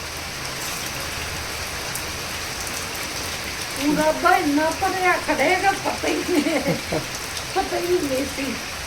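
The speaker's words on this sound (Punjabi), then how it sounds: "ਨਾਲ ਦੀ ਨਾਲ ਹੀ ਮੀਂਹ ਉਤਰਿਆ ਆ" Steady rain patters and hisses throughout, a dense even wash of drops, while someone talks over it partway through.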